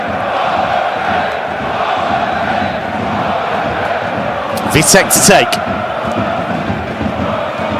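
Stadium crowd at a VfL Bochum versus VfB Stuttgart cup match keeps up a loud, sustained chanting roar, with a brief burst of sharper shouts and thuds near the middle and a commentator talking over it.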